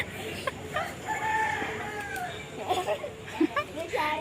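Chickens cluck in Khandala, India, with a higher crowing-like call among them, the birds fairly close and intermittent over a steady outdoor background of people talking.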